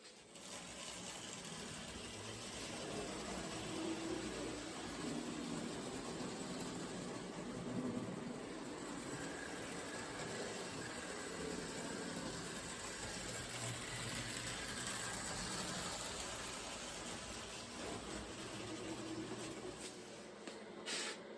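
A Marx 666 side smoker toy train with a caboose running on its track at a train show, a steady metallic rolling rumble with faint rail clatter, continuous throughout.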